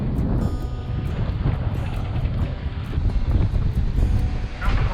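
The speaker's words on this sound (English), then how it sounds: "Winds are pretty high today" Strong wind gusts across the microphone on a sailboat under sail in roughly 16–17 knots of breeze, a constant rushing roar with water wash beneath it and no speech.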